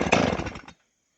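A Stihl 038AV chainsaw with a freshly swapped carburetor briefly catches on a starter pull, giving a short loud snarl of engine noise that cuts out abruptly into silence.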